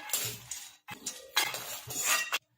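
Roasted makhana being transferred from a pan into a plate, a run of scraping, rattling and clinking spoon-on-metal bursts with short pauses, close and fairly soft.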